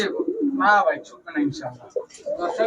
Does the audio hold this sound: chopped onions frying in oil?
no